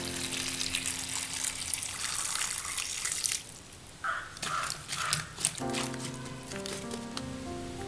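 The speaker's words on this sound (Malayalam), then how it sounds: "ഇനി ഇതിലേക്ക് വെള്ളം ഒഴിക്കാം." Water is poured into a pan of breadfruit curry masala, gushing and splashing in uneven bursts with gurgling and trickling. Faint kitchen clatter follows. The sound is close but fairly quiet.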